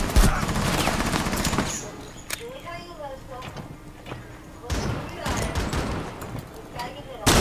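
Bursts of close, rapid gunfire from a single-fire gun in Rainbow Six Siege, two dense volleys separated by a quieter stretch with a faint whistling tone, while a person talks over parts of it.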